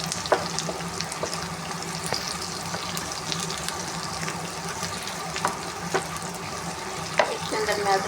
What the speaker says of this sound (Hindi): ये प्याज थोड़े से हल्का ज़रा नरम होना शुरू हुए फ्राई होना। अब मैं इनको मिक्स करूँगी इसके अंदर फ्राई पैन के अंदर